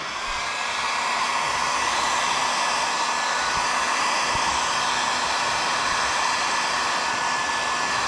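A heat gun blows hot air over vinyl graphics during an install, giving a steady, continuous airy whoosh that stays loud and even throughout with no talking.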